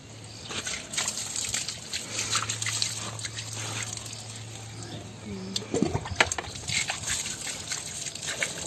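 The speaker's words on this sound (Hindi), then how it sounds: "आपको इसके ऊपर पानी का छिड़काव करना है।" Water sprinkled from above onto a compost heap of soil and waste layers, a steady trickling, dripping patter close by with a low hum beneath and brief splashy bursts toward the end.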